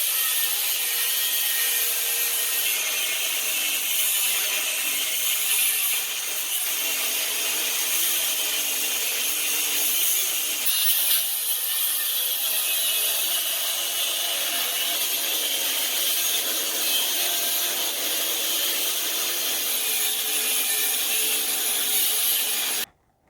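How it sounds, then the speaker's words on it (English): Steady power-tool cutting through bolts on the scroll of an air-conditioner compressor, a continuous loud grinding, sawing rasp that runs unbroken for the whole stretch before stopping abruptly at the end. "I'm going to cut these bolts off."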